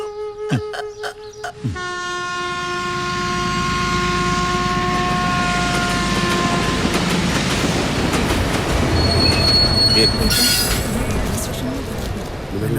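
A train at a railway station, its wheels squealing in long, loud sustained tones over a heavy rolling rumble, with brief talk at the start.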